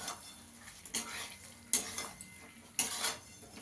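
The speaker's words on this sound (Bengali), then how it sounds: "এবার ফুলকপিটা দিয়ে দেবো, দিয়ে ভালো করে ফুলকপির সঙ্গে কষিয়ে নেব" Cauliflower stirred into a spice paste already cooked down in oil, a faint sizzle broken by several sharp clinks and scrapes of a spoon against the pan, with no talking.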